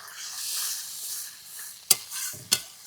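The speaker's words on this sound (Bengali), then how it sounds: "জল দিয়ে মশলাটা বেশ সুন্দর করে একটু কষিয়ে নেব।" Spice masala with a little water frying in a pan makes a soft, close sizzle, broken by two brief scraping clinks of stirring near the end.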